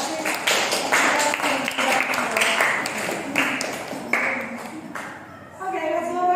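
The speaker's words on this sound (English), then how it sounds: "Everybody give applause to Chelsea" An audience in a class session applauds a student's presentation, with steady, moderately loud clapping that runs for several seconds before it fades and a few tonal chimes follow.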